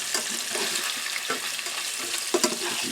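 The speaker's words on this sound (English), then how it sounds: "And cook these sausage pieces first." Pieces of hot Italian sausage fry in a pan with a steady, close crackling sizzle and a few louder pops and stirring scrapes, no voices over it.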